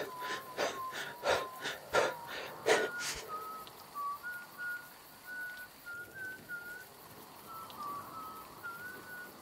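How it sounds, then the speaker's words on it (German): In the video game The Woods, a creepy wandering whistle of sustained, wavering notes drifts through the forest, preceded by a burst of rhythmic breathy rasps, moderately loud against quiet ambience. "Oh nein, nicht wieder der Pfeifer."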